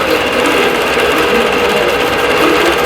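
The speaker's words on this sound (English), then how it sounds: "So I'm just going to go ahead and let this keep sewing." A longarm quilting sewing machine stitches a vintage quilt, giving a steady, loud, continuous mechanical whir and rapid needle chatter with no pauses and no talk.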